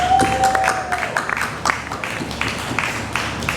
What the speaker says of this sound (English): Let's have a round of applause for Stefan and Todd